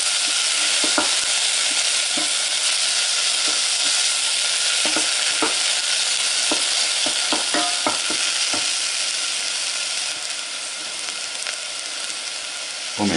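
Crushed garlic clove sizzling in a frying pan, a steady loud hiss with scattered clicks and taps of stirring throughout.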